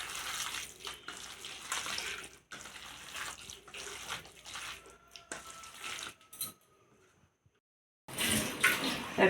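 Banana leaves washed under running water, with splashing bursts from a tap that stop and start, then a short near-silent pause before the water flows again.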